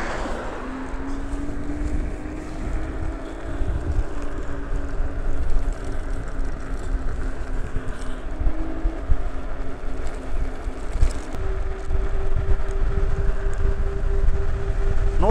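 Currus R11 electric scooter cruising at about 50 km/h, with a steady motor whine that rises in pitch and heavy, continuous wind buffeting on the microphone throughout.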